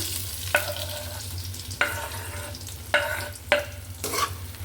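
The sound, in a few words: toasting and stirring bread in a pan for bread upma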